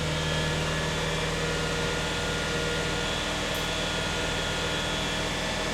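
2014 Nissan Frontier that runs rough, its engine raised to a steady higher idle with a constant hum and broadband noise, evenly loud throughout and without talk.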